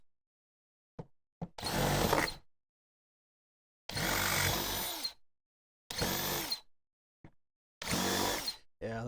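A power drill bores into a classic Chevrolet Impala during an air-conditioning install, running in several loud bursts of a few seconds each, separated by short silent pauses.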